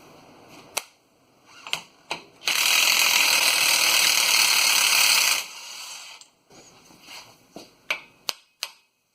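Socket and ratchet breaking loose a front axle nut on a 2005 Dodge Dakota, heard as sharp isolated clicks and clanks around a burst of loud continuous rattling ratchet or impact noise of about three seconds, with no talking.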